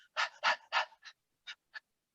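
A dog pants as a sound effect in a Teddy Riley production: six quick, breathy huffs, the first three loud and close together, then three shorter, softer puffs after gaps, with no other sound.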